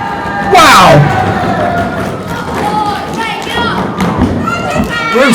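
A middle-rope lariat lands in a live wrestling match with a heavy, close thud, followed at once by a loud crowd roar and cheering that carries on under excited commentary voices.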